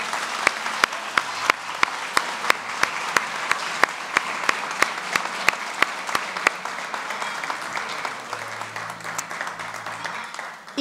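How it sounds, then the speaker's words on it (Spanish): An audience applauding at a tribute ceremony for centenarian women in Yecla, Spain, with sharp, evenly spaced claps standing out over a softer bed of many hands, tapering slightly near the end. "Y un fuerte aplauso también para Inma."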